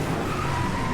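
A Koenigsegg Regera sliding off the track in Driveclub, tires scrubbing and skidding over a loud, continuous engine drone for a brief moment.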